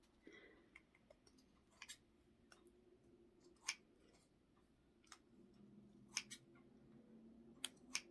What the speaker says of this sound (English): These scissors don't want to cut today.